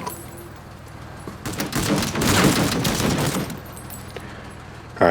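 Sustained bursts of video game gunfire laying down covering fire, rapid overlapping shots building to a loud dense volley mid-clip before easing back to scattered fire, with no talk.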